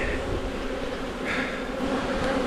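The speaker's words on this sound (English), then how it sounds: "There doesn't actually seem that many bees down here" A swarm of honeybees at a hive in August fills the air with a dense, steady buzz, close and unbroken, with no voices over it.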